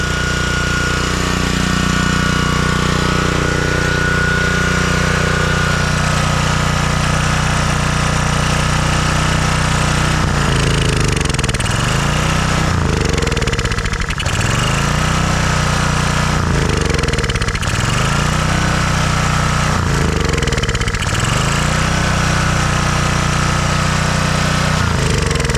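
A gasoline pressure washer engine runs loud and close with the choke on, a rough steady chug that surges and sags in a regular pulsing rhythm.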